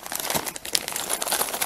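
A crinkly plastic sachet of charms is handled and opened close up, producing dense, continuous crackling and rustling for a couple of seconds with no voices.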